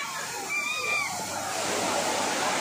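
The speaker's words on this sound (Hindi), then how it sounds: "ये देखो ऑसम सा वाटरफॉल, मज़ा आ गया" Waterfall at Malshej Ghat pouring down, a steady broadband rush of falling water with faint crowd voices and chatter mixed in throughout.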